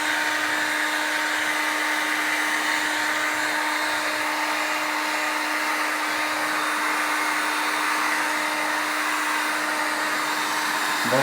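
A heat gun blowing hot air onto vinyl wrap during a wrap installation, a steady, loud whooshing drone with a constant hum that runs unbroken throughout.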